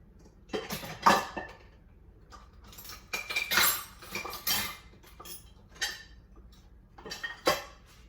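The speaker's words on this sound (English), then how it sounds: "now I'm trying to find my jar opener" Metal kitchen utensils clatter and clink in a drawer during a search for a jar opener while canning homemade spam, in several bursts of rummaging with quiet pauses between.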